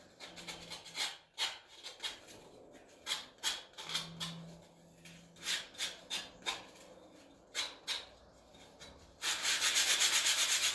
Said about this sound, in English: I'm using a sanding sponge, but you can use sandpaper or sanding block.